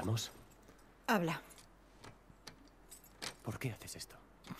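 Keys jangling in The Last of Us Part II, light metallic rattling and clicks scattered under quiet, close voices speaking in Spanish.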